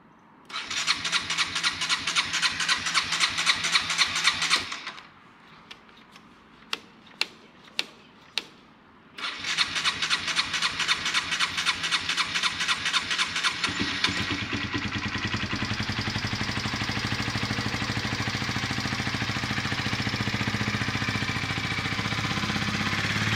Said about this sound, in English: Started it up like a Honda.